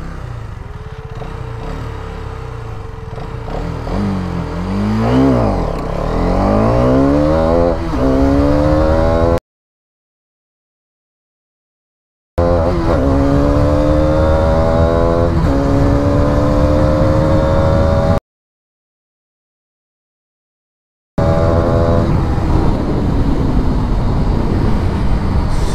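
A Hero Karizma XMR 210 motorcycle accelerates hard during a test run, its engine note climbing repeatedly through rising gear sweeps, loud and close, with the pattern repeating across separate runs broken by silent gaps.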